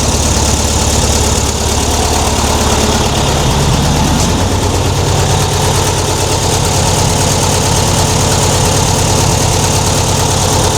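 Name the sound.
VW Beetle sport exhaust idling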